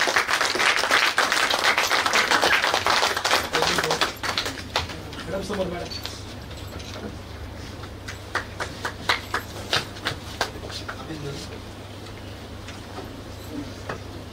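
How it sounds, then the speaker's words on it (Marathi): Audience applause at a journalists' gathering and award ceremony in Pune, loud sustained clapping that thins out into scattered individual claps and fades, with voices speaking over it. "तर त्यांच्यासाठी जोरदार टाळ्या वाजवा."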